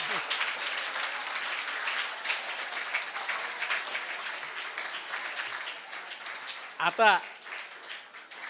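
Sustained audience applause fills a Marathi motivational lecture hall, a steady dense clapping that runs nearly the whole time before a brief spoken word near the end.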